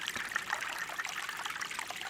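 A small creek or stream captured during field recording, giving a soft, steady trickle of running water with no voices.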